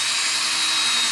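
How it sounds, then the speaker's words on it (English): A power drill drives a screw into 3D printed plastic, giving a loud, steady, high-pitched whine held for about a second, close and alone. "make sure to adjust your power drill before screwing into 3D printed plastic."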